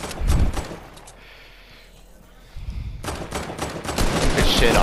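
Rapid bursts of automatic gunfire in a multiplayer shooter video game, loud and close, dropping out briefly in the middle before the shooting resumes, with players talking over it.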